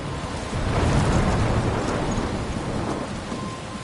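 A thunderstorm batters the Life is Strange lighthouse area, with heavy rain and deep, continuous thunder rumbling loudly and evenly throughout, no voices present.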